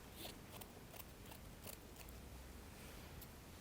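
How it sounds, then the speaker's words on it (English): Scissors snip through a small piece of crinoline, a series of quick, faint, crisp cuts spaced irregularly in a quiet room. "cut a little piece of crinoline"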